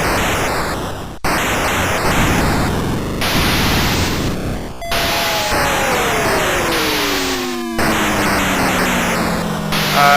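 Harsh electronic Galaxian arcade game noise: hissing static bursts and abrupt cuts, then several falling tones sliding downward together, loud and continuous with no talking.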